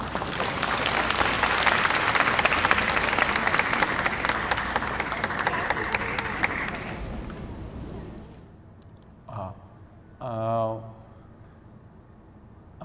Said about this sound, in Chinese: 请各位同学鼓掌欢迎